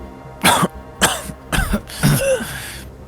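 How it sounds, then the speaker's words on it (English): Four harsh, separate coughs in close succession, loud and near, with short pauses between them and a throaty rasp at the end, done by a voice acting out choking during a tabletop role-playing game session. "you begin to start coughing"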